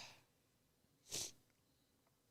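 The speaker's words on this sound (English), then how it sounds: "I keep sneezing." A single sharp sneeze bursts out in a quiet room, preceded by a soft breath and followed by faint rustling.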